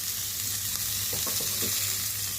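Fish frying in oil on a tawa, a loud, steady sizzle throughout, broken midway by a few soft scraping clatters as a piece is turned over.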